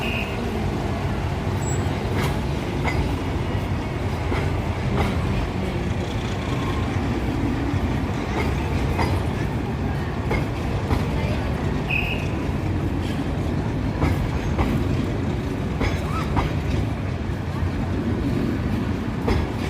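A train engine runs along a Bangladesh railway near Narayanganj's Shahibazar station, giving a continuous loud rumble and rattle of wheels on track with scattered clanks throughout and faint voices mixed in.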